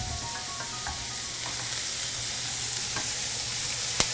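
Sweet potato strips sizzle and fry steadily in a pan while being stirred, a continuous bright hiss with a few soft utensil scrapes and one sharp clink right at the end.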